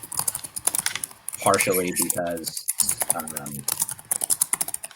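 Rapid clicking of typing on a computer keyboard runs through the background, light and steady, while a person speaks over it in the middle of the stretch.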